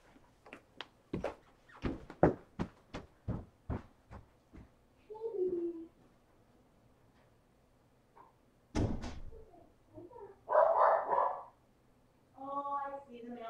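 A pet dog barks in a run of about a dozen sharp, evenly spaced barks, loud and close indoors, followed by a few scattered louder yelps and whines after a pause.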